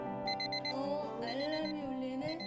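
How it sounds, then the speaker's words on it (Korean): A medication-reminder alarm rings with a sustained electronic tune, steady and moderately loud, its repeating tones sounding alone. "알람이 울리네?"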